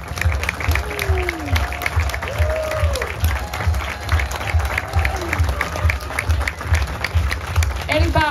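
Audience applause for a sculptor at the opening of an international sculpture symposium in Saint-Georges, Beauce, Quebec: steady clapping from a crowd throughout, with scattered voices and some low rhythmic background noise.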